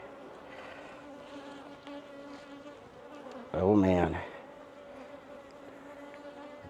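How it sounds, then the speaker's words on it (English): Stirred-up mountain bees swarm around an opened hive in a remote cabin apiary, a near, loud burst of buzzing swelling for about a second over a low steady hum, with a brief spoken exclamation. "you get these mountain bees stirred up"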